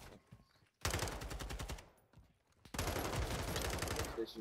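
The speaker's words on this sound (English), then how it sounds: "I can't see him, but I'm shooting." Rapid automatic gunfire in a ranked Call of Duty MWII match, two sustained bursts of fast rattling shots after a quiet start, fairly close and loud.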